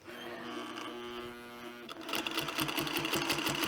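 Sewing machine stitching a fabric placemat: a steady mechanical hum, then a faster, rhythmic, rattling run of stitches, close and clear, with faint talking beneath.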